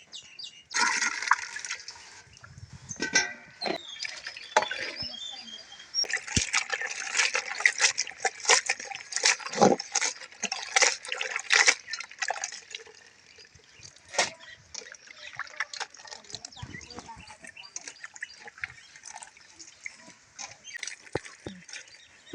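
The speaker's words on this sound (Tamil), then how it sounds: "ரெண்டு மூணு தடவை அந்த மாதிரி தண்ணி ஊற்றி அலசி நல்லா எடுக்கணுங்க." Wild village mushrooms are rinsed several times in water to wash away soil, making continuous splashing, swishing and trickling with sharper sloshes, close by and loud, with no speech.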